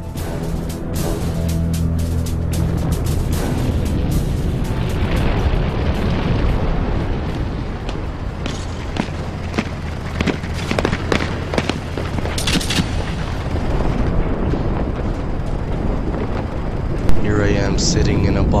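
Rapid bursts of gunfire and heavy explosions from the shooter video game Dirge of Cerberus fill the whole stretch, loud and dense with continuous booming under a voice that talks over it.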